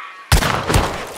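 Gunfire in the video game Hunt: Showdown, a sudden loud burst of shots opening after a brief quiet, followed by a second heavy report and a continuing dense crackle of firing.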